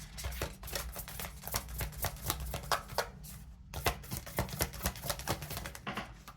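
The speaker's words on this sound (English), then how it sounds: "Ready, aim, and shuffle." Tarot cards being shuffled close by, a rapid run of crisp riffling slaps and flutters with a brief pause midway, no talking.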